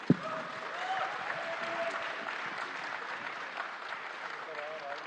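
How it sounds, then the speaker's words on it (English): Sustained applause from a panel discussion audience at a film industry event, a steady dense patter of many hands filling the room evenly, with a sharp louder clap at the start and no talking over it. "it deserves another round of applause"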